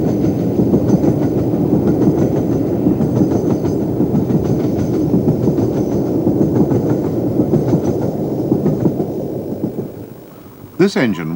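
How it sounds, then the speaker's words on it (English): LMS Jubilee steam locomotive Bahamas, fitted with a large double exhaust chimney, hauls a train on the Settle and Carlisle line, a loud continuous rumble and clatter of wheels close by, easing near the end. "we next see the second of the pair, Bahamas, again at work on a train heading to Settle and Carlisle"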